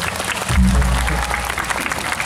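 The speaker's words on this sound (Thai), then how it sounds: "ขอเสียงปรบมือเป็นกำลังใจนะ" Audience applause, a dense burst of clapping rising after a half-second and continuing, with a low rumble of voices or noise under it at the start.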